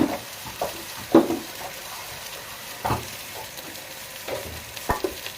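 Carrots and cumin for a lentil dish fry in a pan, a soft steady sizzle broken by several louder stirring scrapes and clatters, with no one talking.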